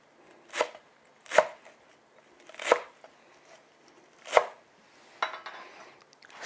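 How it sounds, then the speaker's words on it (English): Fresh coriander being chopped on a cutting board, five or six separate knife strikes spaced about a second apart, close and crisp with quiet gaps between. "So let's chop the dania to garnish the vegetable."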